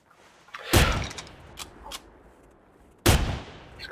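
Two sharp, loud hunting rifle gunshots in the video game The Hunter, several seconds apart, each a hard crack followed by a short rolling decay, with faint clicks and handling noise between them.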